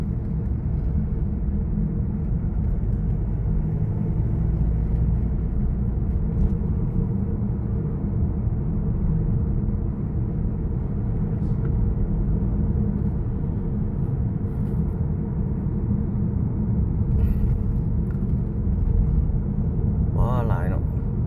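Heavy evening rush-hour traffic in Vientiane, Laos: a continuous low engine drone and road rumble, unchanged for about twenty seconds, with a voice talking over it.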